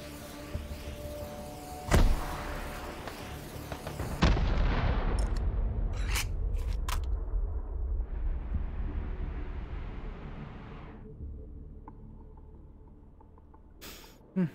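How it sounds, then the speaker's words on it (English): A makeshift mortar in Hot Dogs, Horseshoes & Hand Grenades fires with a sharp loud report, then a long rumbling boom that slowly fades, followed by a few distant cracks and a brief hiss. "Makeshift mortar."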